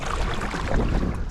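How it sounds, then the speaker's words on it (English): Kayak paddle strokes in cold winter water on a solo trip in Michigan, with steady splashing and dripping up close amid continuous wind noise on the microphone. "continue paddling."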